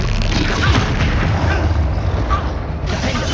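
Confringo fire spell explosions in Hogwarts Legacy, a dense continuous roar of booming blasts and crackle, loud and close, with no clear gaps between bursts.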